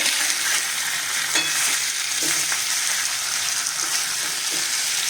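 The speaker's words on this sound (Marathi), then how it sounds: "हे चांगलं आपण तेलामध्ये मिक्स करून परतून घेऊया" Potato slices tossed with salt crackle and hiss steadily as they stir-fry in hot oil, a dense unbroken sizzle with faint stirring scrapes and no voices.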